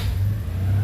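A Citroen 2CV engine started with the key settles into a steady, close, low-pitched rumble, running alone without voices.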